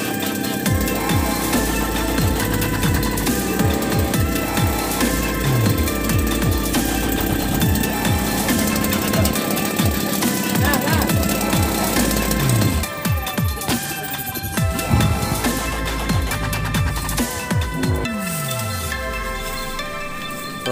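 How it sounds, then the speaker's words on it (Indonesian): A power tool cuts through a large stock of serut wood for bonsai, a loud, dense grinding and buzzing roar with fluctuating pitch that shifts partway through and keeps going without pause, close by. "Proses pemotongan serut terbesar."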